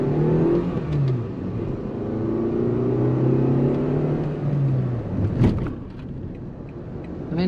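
A Citroen C3 1.6 with a manual gearbox accelerates hard, its engine note climbing in rising sweeps that break off at each gear change, with a brief thump midway as the car rolls over a pothole, close and steady throughout.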